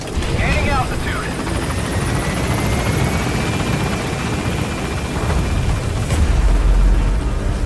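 A helicopter in the Metal Gear Solid V video game gains altitude, its rotor thumping loud and close throughout, with a radio-style voice talking over it and a deeper rumble building near the end.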